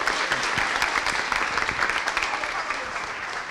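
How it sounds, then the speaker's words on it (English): Warm applause from a meeting audience welcoming Mike Ferry at a real estate sales meeting, a steady dense wash of clapping from many hands that holds for a few seconds, with a voice faintly present beneath. "Let's give a warm welcome round of applause for Mr. Mike Ferry."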